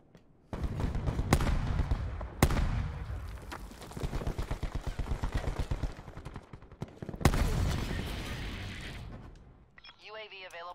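Loud shots and rapid firing from a Black Ops 4 match, including Annihilator pistol fire, with heavy booming reports and bursts of automatic fire, and a voice talking at the end.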